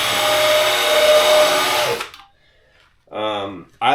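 A loud, steady power-drill whir with a spinning rotary brush scrubbing a snowboard base, running for about two seconds, then stopping; a short voice or burst follows near the end.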